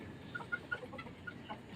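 A chicken in its enclosure gives a few soft, quiet clucks, spaced irregularly over faint background noise.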